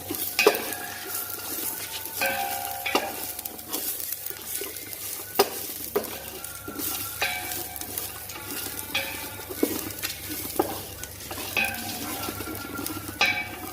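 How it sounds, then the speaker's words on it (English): Ingredients for white kurma roasting in a pan and being stirred, with repeated spoon scrapes and light metallic clinks against the pan over a soft sizzle, close and steady, with no talking. "After turning off the stove, I have to turn them around or else I'll burn them."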